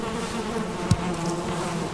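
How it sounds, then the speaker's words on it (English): Beehives in the video game Valheim give off a steady, close droning buzz of bees throughout. A single soft knock is heard partway through. "at the moment I've got, obviously, my bees."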